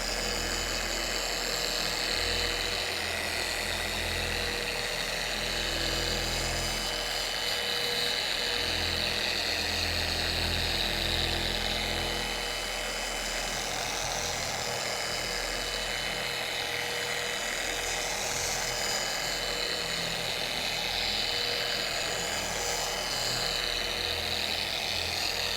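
A machine polisher fitted with a Chemical Guys clay eraser disc runs over car paint, a loud, continuous high-pitched whine over a low motor hum that barely changes throughout.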